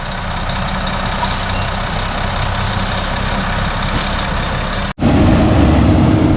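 A concrete truck rumbles loudly while a steady electronic reversing alarm sounds over it, with three airy hissing bursts spaced through the clip, then a brief cut and a heavier, louder engine roar.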